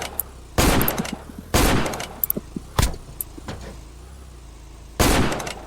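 Gunshots in the Roblox game Block Spin, four loud sharp cracks spaced irregularly over a few seconds, each followed by brief clattering rattles, with a low engine hum underneath and no talking.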